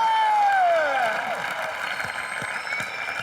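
Studio audience applause welcoming a guest on a comedy show, with musical tones and a swoosh at the start fading into steady scattered clapping.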